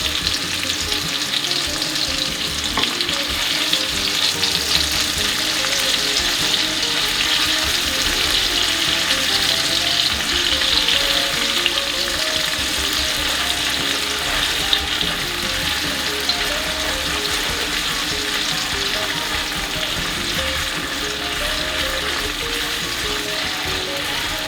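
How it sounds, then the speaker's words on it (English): Tomato paste sizzles and fries in a frying pan alongside chickpeas, a steady loud crackle throughout with occasional stirring scrapes and no talking. "I'm going to add some tomato paste."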